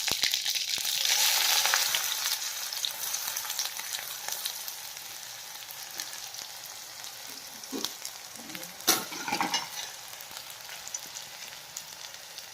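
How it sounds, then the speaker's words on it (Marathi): Onion hits hot oil with cumin and mustard seeds, giving a long crackling fry. It starts louder and then settles into a softer hiss, with a few spattering pops and stirring sounds. "आता ही कांदा टाकणार आहे."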